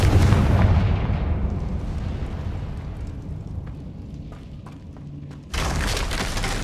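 A deep rumbling blast from the Confringo blasting curse in Hogwarts Legacy, loud and sustained at first and slowly fading, then a fresh burst of noise near the end.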